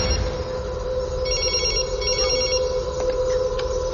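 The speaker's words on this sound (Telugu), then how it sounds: "కులకర్ణి ఫోన్ అనుకుంటా." A telephone rings loudly and continuously with a repeating electronic trill, heard alone against a steady background hum.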